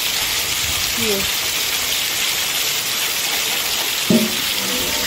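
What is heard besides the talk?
heavy rain pouring into a courtyard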